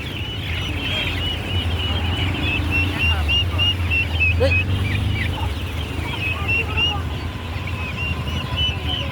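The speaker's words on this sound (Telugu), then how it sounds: "ఇది టర్కీ కోళ్ళు చూస్తున్నారుగా" Turkeys gobbling and clucking close by at a weekly market, a steady chorus of several birds over outdoor background noise.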